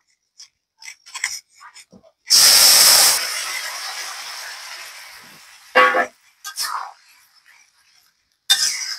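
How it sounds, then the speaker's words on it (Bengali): Lentil dumplings (bori) frying in hot oil for a simple drumstick and eggplant curry, a loud sizzling hiss bursting in then settling, followed by brief clatters and another sizzle near the end. "বড়িগুলো যখন লাল লাল হয়ে আসবে তখন আমরা তরকারিটা ঢেলে দিব"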